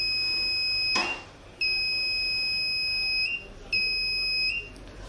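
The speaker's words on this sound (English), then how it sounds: "When I put my hand between the transmitter and the receiver, it gives an alarm." A homemade laser-beam shop door alarm sounds loud, piercing electronic tones that switch on in bursts with short gaps between, triggered whenever the beam between transmitter and receiver is broken.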